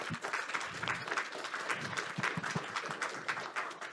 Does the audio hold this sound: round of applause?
yes